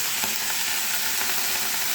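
Curry leaves frying in hot oil for a brinjal curry, a steady close sizzle and crackle with a few sharper pops, no voices.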